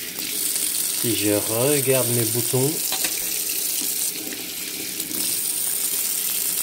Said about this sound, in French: moi ce que je vais faire, c'est que je vais vite me rincer les mains